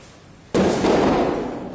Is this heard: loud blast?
yes